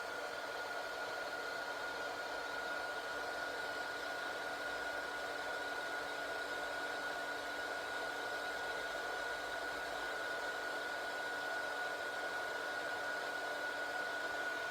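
A one-speed heat embossing tool blows hot air with a steady, even whir and hiss that stays close and unbroken throughout.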